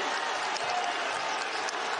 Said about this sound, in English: Crowd rising to its feet here in Newark